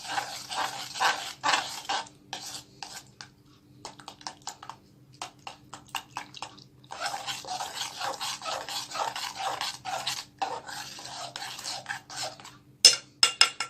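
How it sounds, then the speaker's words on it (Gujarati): Milk being stirred by hand with powdered sugar and cornflour for homemade orange ice cream, giving close, repeated scraping and rubbing strokes against the pot in uneven bursts with brief pauses. "બરાબર મિક્સ કરશું।"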